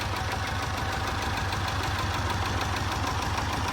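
A 1969 Alfa Romeo Giulia Super 1.6 twin-cam engine with twin Weber carburettors idles smoothly and evenly, a steady mid-pitched throb with a light ticking rhythm, heard close and alone.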